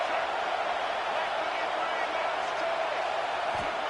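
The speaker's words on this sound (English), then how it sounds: "they try to quiet this raucous, crazy crowd" A raucous stadium crowd at a UCLA college football game roars in a dense, unbroken wall of noise, loud and sustained throughout.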